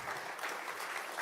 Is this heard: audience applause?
yes